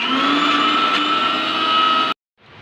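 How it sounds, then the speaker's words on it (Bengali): A blender whirs loudly and steadily as boiled eggs and oil are blended into mayonnaise, a close high-pitched motor whine that cuts off abruptly, then a faint restart of sound. "দিয়ে আবার ব্লেন্ড করে নেব এরকম করে পাঁচ থেকে ছয়বার আপনি ব্লেন্ড করে নেবেন"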